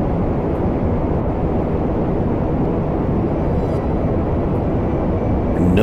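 In Kerbal Space Program, an aircraft engine roars steadily at a moderate throttle, a dense, continuous drone that holds loud and even throughout with no voices.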